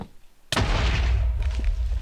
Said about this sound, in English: the ghasts have an extra explosion power too, by the way, so they can destroy stone